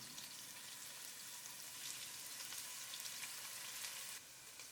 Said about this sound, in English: Add the onion paste into the oil and fry for a minute.